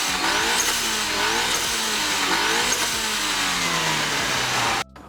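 Mitsubishi Evo 8 MR with a Tomei turbo, Tial wastegate and HKS SSQV blow-off valve, engine revving repeatedly in loud rising and falling pulls close by, then cutting off abruptly near the end.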